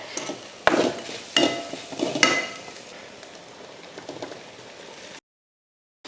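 Rice being stirred in a hot pan for a lunch-box variety rice dish: a few distinct scraping strokes with light sizzling between, close and moderately loud, ending in a brief silence.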